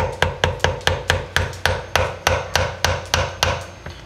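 A thin screwdriver is worked as a wedge between the engine case halves of a TaoTao 110D quad, giving a steady series of about fourteen sharp, evenly spaced metallic taps close by, with no talking.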